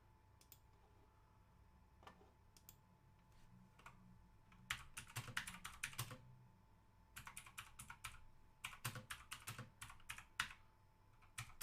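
A cheap mechanical keyboard with blue switches is typed on up close, giving bursts of sharp, clicky keystrokes that start sparse and quicken into rapid runs, with no other sound.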